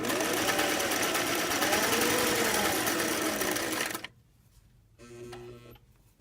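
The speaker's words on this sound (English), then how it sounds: "And now I'm going to sew this flap onto my pocket." A sewing machine stitches a welt pocket flap in a fast, steady whirring run for about four seconds, then stops, followed by a short, softer burst of stitching.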